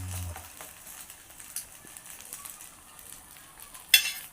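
Soft, faint sizzle of a bread omelette frying in a pan over low heat, a quiet continuous crackle with a brief louder hiss near the end.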